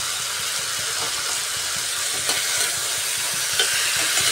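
Ridge gourd, softened and watery, sautéing in a pan over a raised gas flame for a Bengali tilapia curry with potatoes; a steady close sizzle with faint stirring scrapes and a couple of small clinks, no talking.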